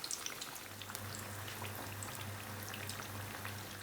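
Brinjal (aubergine) pakora in gram flour batter frying in hot oil: a steady, faint crackle and sizzle of tiny pops with a low background hum, no voices.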